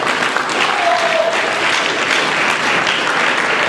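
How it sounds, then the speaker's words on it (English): Steady, dense applause rolls through an awards ceremony audience, many hands clapping loudly and evenly from start to finish with no talk over it. "Let's give Flo a round of applause"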